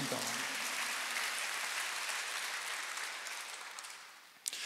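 Congregation applauding during a Sunday church service, a dense broadband clatter of many hands that holds steady for most of the clip, then thins and tapers near the end before a brief final burst.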